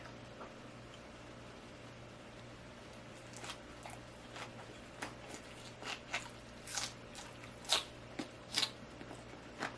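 Someone bites and chews crunchy napa cabbage, eaten with doenjang sauce; crisp, fairly close crunches start faint and grow louder and more frequent toward the end over a quiet steady background hum.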